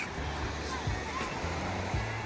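Choppy sea waves washing in at Levanakya Beach on Samos, a soft continuous surf hiss with low voices murmuring beneath it.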